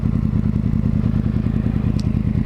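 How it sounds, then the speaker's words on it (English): A Yamaha R1 motorcycle engine idles with a steady, loud low rumble during a slow U-turn, heard close up with no talking. "This is a bike U-turn."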